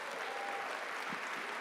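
A brief stretch of steady crowd applause at a university athletics awards ceremony for an award winner, fairly faint and even, with a faint tonal hum running through.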